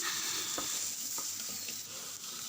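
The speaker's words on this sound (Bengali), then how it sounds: "কড়ার উপর দিয়ে দেখুন কষিয়ে নিচ্ছি" Prawn curry masala for a chingri malai curry being sautéed in a wok, with a steady close sizzle and intermittent scraping stirs of a spatula against the metal, no voices.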